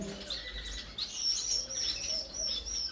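Gouldian finch chicks in a breeding aviary give a string of thin, high chirps and tweets, fairly close and continuous over a low background hum.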